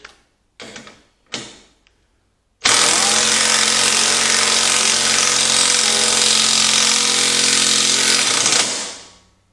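A cordless 20 volt drill drives a fastener: a few short bursts, a pause, then one loud sustained whirring run of several seconds that winds down at the end, heard up close.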